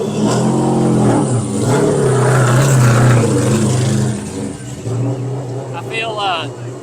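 A late model stock race car at a CARS Tour race in Anderson revs hard as it drives past, engine loud and close before fading away, with a person talking over it.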